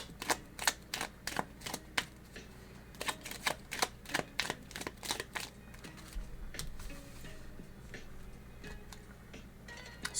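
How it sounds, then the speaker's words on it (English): Small, very tiny tarot cards being shuffled by hand in a quiet room, giving a run of quick, crisp riffling clicks and snaps in bursts, then settling into softer rustling. "Let me see if I can shuffle it this way."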